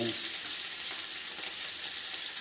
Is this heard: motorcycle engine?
no